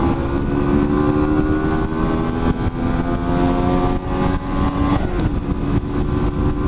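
Honda Varadero 125 V-twin motorcycle accelerating hard after a single downshift, its engine droning loud and close with rising pitch, a brief dip near the gear change, and heavy wind noise throughout.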